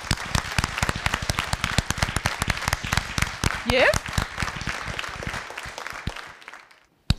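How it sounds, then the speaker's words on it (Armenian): Studio audience applauding during an Armenian television game show: dense, steady clapping runs for about seven seconds with a host talking over it, then it cuts off abruptly. "Ծափահարենք։"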